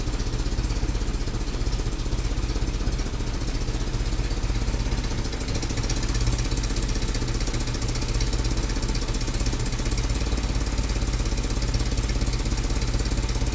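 A rough Ford GPW jeep engine with an intermittent misfire idles continuously up close, its chugging rhythm steady with a faint uneven stumble now and then.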